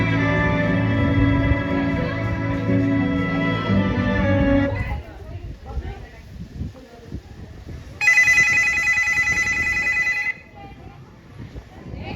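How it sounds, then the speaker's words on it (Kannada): A telephone rings unanswered in a stage drama about a mother in an old-age home, with a long ringing burst, a pause filled with faint rustling, then a second shorter ring, fairly loud and close. "ಯಾಕೆ ನನ್ನ ಮಗ ಕಾಲ್ ತೆಗಿತಾ ಇಲ್ಲ?"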